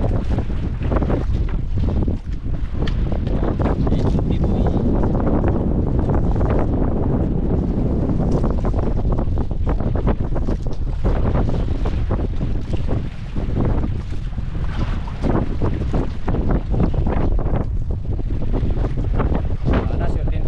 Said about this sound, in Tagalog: kahit malakas-lakas ang hangin.